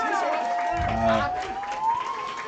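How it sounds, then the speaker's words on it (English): Shelby Valley fans applauding and cheering at a high school football game, a crowd swell heard from a distance under continuous play-by-play commentary, with whistling whoops rising over it. "Hearing a lot of applause for Shelby Valley's from Shelby Valley's fans right there"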